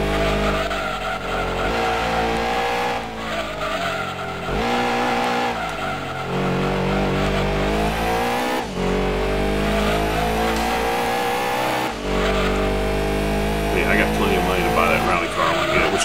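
Lancia Stratos race car engine in Gran Turismo 2, a loud, sustained rev that rises and drops through gear shifts across the whole stretch, with brief tire squeal, under excited talk.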